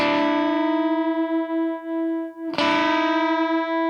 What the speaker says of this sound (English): Now we're going to do this bend.